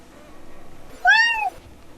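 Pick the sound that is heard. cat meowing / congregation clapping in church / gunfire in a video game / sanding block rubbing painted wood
cat meowing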